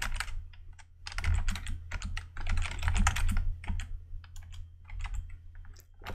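A password being typed on a computer keyboard while setting up an Ubuntu Linux virtual machine in VirtualBox: steady, fairly close keystroke clicks over a low background hum, no voices.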